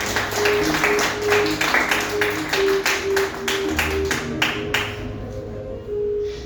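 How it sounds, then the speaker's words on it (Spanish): Church congregation applauding loudly for several seconds, dense rhythmic clapping that thins out and stops toward the end, with music underneath. "¿Cuánto le puedes dar un fuerte aplauso al Señor?"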